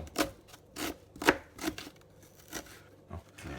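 A knife chops onion on a board for pasta with bottarga, cooked on a sailing boat: a handful of sharp, irregular cuts, close and fairly quiet, with no talking.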